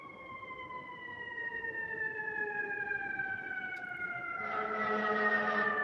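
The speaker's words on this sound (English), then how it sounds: "You hear them sirens?" Emergency sirens wail in long, slowly falling tones, growing a bit louder as another siren joins near the end.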